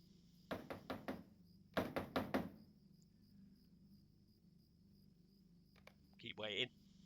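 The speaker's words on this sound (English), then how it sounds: "So just keep knocking." Two bursts of four hollow knocks on a wooden hobbit-house door in Lord of the Rings Online, separated by a pause, followed by a brief high chirping sound; a faint insect-like drone runs underneath.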